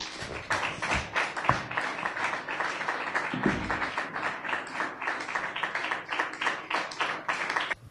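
Church congregation applauding during a French-language service, a dense, steady wash of many hands clapping at moderate distance that carries on throughout with no break.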